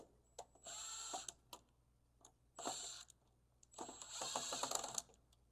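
Screws are driven back into the cover of a System Sensor D4120 duct smoke detector on an HVAC system, heard as three short buzzing whirs of a powered screwdriver with brief pauses between them.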